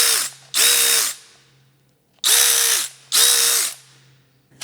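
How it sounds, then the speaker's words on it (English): Battery-powered electric ratchet wrench running in four loud whirring bursts, each about half a second long, separated by short silences. "So it's like a ratcheting socket, but also electric."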